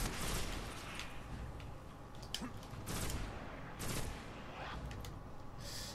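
Sniper rifle shots in Destiny's Warmind mission on Earth: several heavy, echoing cracks spaced a second or so apart over a thick, noisy battle backdrop, loud and close.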